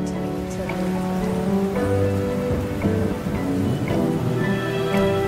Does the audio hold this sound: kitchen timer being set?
no